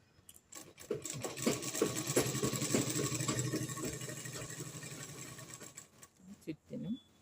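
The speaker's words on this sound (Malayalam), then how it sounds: "ഇനി നമുക്ക് ഉളുമ്പ് തയ്ക്കാം" A sewing machine runs in a steady mechanical whir while stitching the folded hem of a nightie, starting after a few seconds, fading off near the end, followed by brief handling noises.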